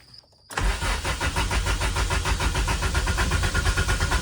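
A DirtX CRX race car engine cranks on fresh fuel and catches almost at once, settling into a loud, steady, rapidly pulsing idle close by.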